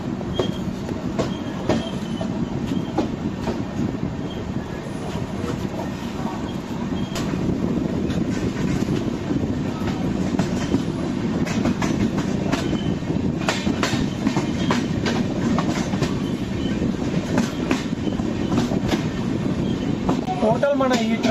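A Konkan Railway train running from Mumbai toward Trivandrum, heard from inside as a steady low rumble with repeated clickety-clack wheel beats and occasional squeals, holding at a constant loud level throughout.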